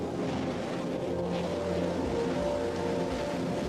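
A Rocket Lab launch vehicle's engines roar at liftoff from the pad as one steady, broad, rumbling wash of sound that holds level throughout, with no voices.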